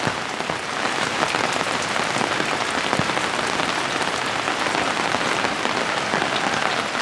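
Steady rain falls and patters on surfaces, a dense, even hiss that runs without a break the whole time, with no voices.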